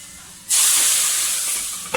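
Garlic tadka tempering poured into a pot of cooked chana dal, erupting into a loud, sudden hissing sizzle that sustains and slowly fades, with a brief clatter near the end.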